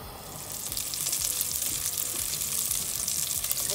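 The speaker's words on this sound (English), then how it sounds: "we're going to sizzle those for a couple of minutes until they're nice and golden and crispy" Sausage meatballs fry in a hot pan, crackling and spitting in a dense, steady sizzle that stays close and fairly loud throughout, with no voices over it.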